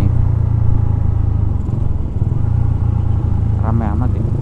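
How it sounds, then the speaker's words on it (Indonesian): A convoy of big motorcycles and Vespa scooters passing on a busy Jakarta street, a loud close, continuous engine rumble with a brief voice near the end. "Motor-motor gede, Vespa."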